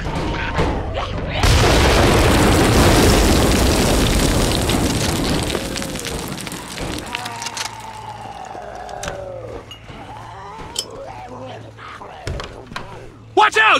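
A grenade detonates in the game Contagion, a loud, long roaring blast that rumbles for several seconds before fading into clattering debris and ambient noise, with a voice calling out nearby.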